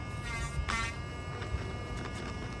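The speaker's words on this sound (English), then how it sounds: "now we're going to be able to do our drilling" Small BOLTZ cordless DIY rotary tool running on a deck, a faint high buzzing whine with brief rises in pitch as it bites, steady throughout and no talking.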